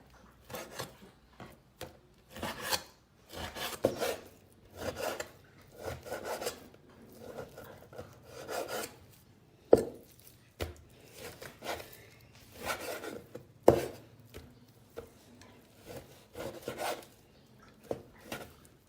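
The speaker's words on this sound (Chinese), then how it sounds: "把这皮子搞掉， 我把它切成小块。" A kitchen knife trims the skin off pork and cuts the meat into small pieces, making repeated close rasping, scraping strokes in irregular bursts with brief pauses and a few sharper knocks, without talking.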